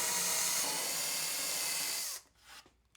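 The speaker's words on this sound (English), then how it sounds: "Pre-drill that and we're ready to hang it." A power drill bores 3/16-inch pilot holes through a wooden floating shelf, one steady loud whine lasting about two seconds before it cuts off and leaves only faint handling sounds.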